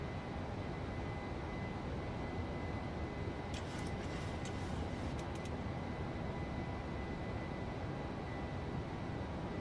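A PMDG 737-800 in a flight simulator spooling to TOGA takeoff thrust: a loud, constant broadband engine roar with a faint whine, a short cluster of clicks midway, no speech.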